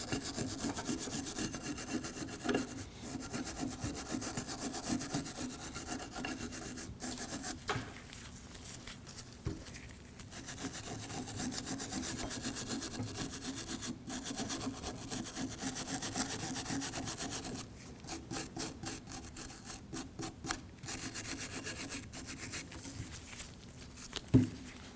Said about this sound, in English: You can use a wire brush.